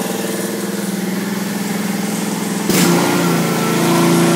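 A Honda lawn mower engine after a carburetor repair, idling and then engaging its blades, gives a steady close mechanical drone that grows louder and rougher when the blades kick in partway through.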